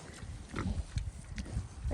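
Pigs at a farm grunting in short, low, irregular bursts close by, fairly faint, with no voices over them.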